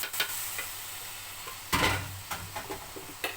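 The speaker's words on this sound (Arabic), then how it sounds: "هنا بقى ايه كانت لسان عصفور خلاص اتحمرت" Orzo pasta (lisan asfour) frying and being stirred in a pan, giving a faint sizzle broken by several short scraping stirs, with one louder, longer scrape in the middle.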